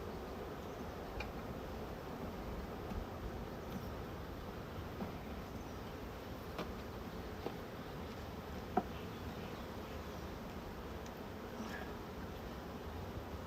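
Honey bees swarm around an open hive during an apiary inspection, a continuous low droning buzz at moderate level with a few faint clicks and one brief knock, no speech.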